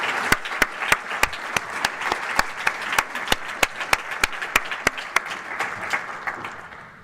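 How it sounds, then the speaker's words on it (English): An audience at a university master's program opening ceremony claps in unison, sharp, evenly spaced beats forming a rhythmic group clap that fades slightly toward the end. "let's give them as well a big applause"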